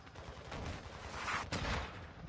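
Rapid rocket launches and bursts of gunfire in a video game firefight, dense and continuous with a sharp blast near the end, loud and close.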